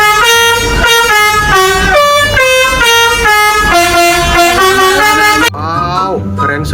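A yellow toy Budiman bus horn honks loudly in a sustained, wavering multi-tone melody, then cuts off abruptly near the end and gives way to a shorter, bending tone.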